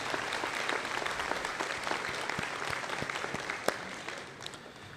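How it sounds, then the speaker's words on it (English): A commencement crowd at State College of Florida, Manatee-Sarasota gives its college president a sustained round of applause, dense clapping with a few sharper claps, tapering slightly toward the end. "please join me in a round of applause in recognition of our president, Dr. Carol Probsfield"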